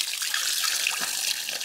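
Water pours steadily from a pretty stone fountain in a Spanish village, a continuous close splashing rush with no talk over it.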